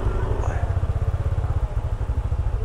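A motorcycle idles nearby in an outdoor parking area at a campsite near Pinlac Falls, its steady, lumpy low-pitched putter pulsing evenly and loudly throughout.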